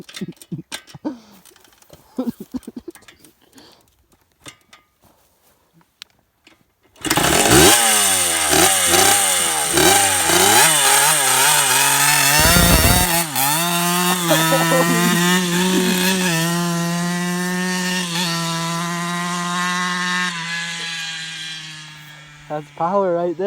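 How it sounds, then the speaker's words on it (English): A 1979 Suzuki RM 125 two-stroke dirt bike engine starts after quiet talk and clicks, then revs loud and close with rising and falling pitch, buzzing raspily before settling to a steady high idle; people talk beneath it. "You have to pull in the clutch and get some RPM in there."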